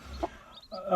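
A native hen gives soft, brief clucks over her newly hatched chicks, close by, with faint high peeps between them in a quiet setting.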